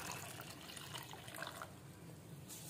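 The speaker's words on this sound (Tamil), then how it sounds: "இப்போ நம்ம கொஞ்சம் தண்ணி ஊற்றி கிழங்கு நல்லா பாயில் பண்ணிக்கலாம்." Water poured into a cooking pot to boil karunai kilangu (elephant foot yam), a steady close splashing stream with no talking.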